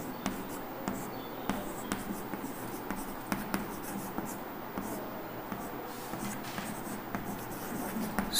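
Pen or chalk scratching steadily through a handwritten definition in a chemistry class on the solid state, with short repeated strokes and taps, close and fairly quiet, no talk over it.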